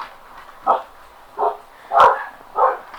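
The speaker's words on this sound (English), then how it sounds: "We apologize for the dogs." Dogs bark indoors in a home, four separate woofs spaced roughly evenly over a few seconds, fairly close and loud with quiet room tone between.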